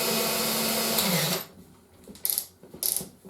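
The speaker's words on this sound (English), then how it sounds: "3-speed hammer drill." A DeWalt 3-speed hammer drill whirs loudly and steadily, then winds down and stops, followed by a few short bursts of higher-pitched spinning.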